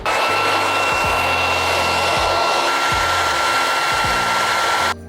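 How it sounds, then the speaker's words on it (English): A blow dryer on the cool setting whirs loudly and steadily during a wig install, with a constant high whine and regular low clicks, then shuts off abruptly just before the end. "And I'm gonna go in with my blow dryer on the cool setting."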